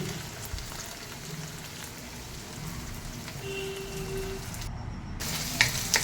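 Green beans and chopped garlic frying in a pan while being stirred, a steady close sizzle like light rain with occasional clicks of the utensil against the pan.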